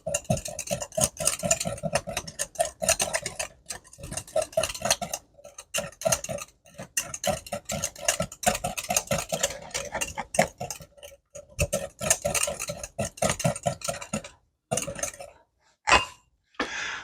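Crab Louie ingredients, including king crab, are stirred in a bowl with a utensil, making rapid, steady clinking and scraping taps close up that pause briefly near the end.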